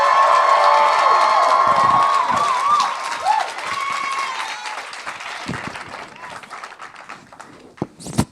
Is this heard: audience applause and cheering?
yes